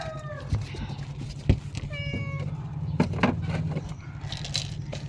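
A pet cat meows several times at close range, with a few short rising and falling calls spaced over several seconds above a low steady hum and small scraping sounds.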